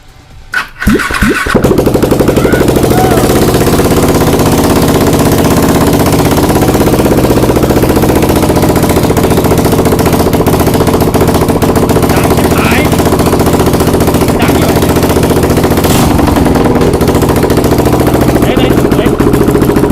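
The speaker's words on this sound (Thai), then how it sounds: "ติดเครื่องได้ไหมทั้งสภาพนี้" A Yamaha Exciter motorcycle engine sputters to life on its first start and then runs loud and steady, revving continuously with a rough, throaty drone close by.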